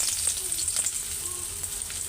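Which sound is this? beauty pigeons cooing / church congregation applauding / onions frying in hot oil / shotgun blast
onions frying in hot oil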